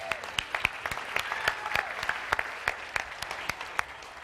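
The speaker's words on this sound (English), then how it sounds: "So let's give Mick a big round of applause." Audience applause at a stage event, a crowd clapping steadily with sharp individual claps standing out, moderately loud and continuous for a few seconds without talk.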